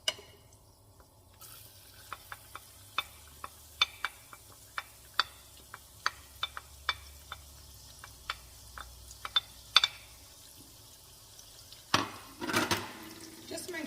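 Garlic frying in a thin film of oil in a pan over medium heat, heard as sparse, irregular small pops and crackles that stay quiet against a near-silent background, with a brief louder rustle near the end.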